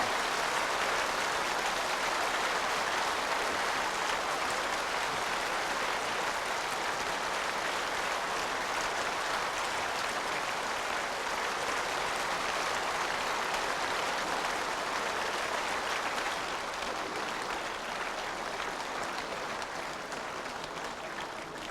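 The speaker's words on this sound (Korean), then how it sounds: "계속해서 박수 좀 더 뜨겁게 좀 감사합니다" A church congregation gives long, steady applause at a new sanctuary dedication service, a dense, even roar of clapping that holds for more than twenty seconds without pause.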